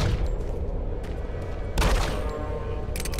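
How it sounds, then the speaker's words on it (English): Video game gunfire at a civilian: a low, steady background hum broken by a sharp, loud shot burst near the middle and another crack near the end, heard close with no talking. "I just shot him in the fucking leg and he's dead!"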